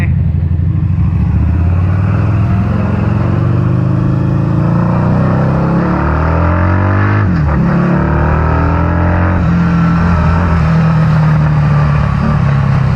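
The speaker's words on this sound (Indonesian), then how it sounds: "Jadi suara-suaranya agak sedikit beda dengan rata-rata Harley karena yaitu Porsche yang desain mesinnya." A 2012 Harley-Davidson V-Rod Muscle 10th Anniversary with its Porsche-designed 125 hp engine revs loudly and close, pitch sweeping up and down in a steady rumble while riding, with a voice talking over it at times.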